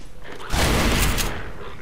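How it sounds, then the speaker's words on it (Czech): Shotgun fire in Half-Life 2, a loud, dense burst of blasts that erupts midway and holds for under a second over steady game noise, then fades back. "Jo, tobě nestačí dvě rány z brokovnice,"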